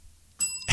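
A single bell strikes and rings out with a bright metallic tone that sustains for a moment before another sound cuts in, fairly close and loud, with no voices.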